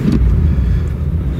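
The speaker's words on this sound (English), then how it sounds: "There you hear that big Buick 350 firing to life." A big Buick 350 V8 in a GM B-body Pontiac Bonneville fires up, a loud, close low rumble that holds steady through the brief moment with no talk.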